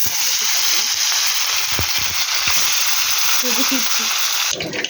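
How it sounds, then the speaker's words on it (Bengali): Fish dropped into hot oil for frying, giving a steady loud sizzle with bursts of spattering and crackling throughout, ending with a brief clatter. "তো বন্ধুরা, এবার মাছগুলো ছেড়ে দেবো। তেলটা গরম হয়ে গেছে"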